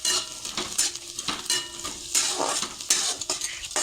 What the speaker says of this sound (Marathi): शेंगदाणे छान तेलात असे परतून घेतले ना मस्त असा छान स्वाद येतो तेलात